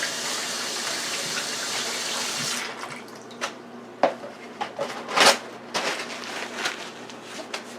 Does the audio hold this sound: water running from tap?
yes